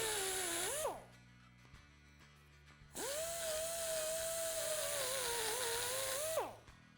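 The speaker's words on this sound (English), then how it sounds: "we'll grind the end of the bolt down next to the swing arm" A power tool grinds down the end of a bolt beside a motorcycle swing arm in two bursts, a short whine and then a longer steady one that winds down at the end, with a quiet gap between them.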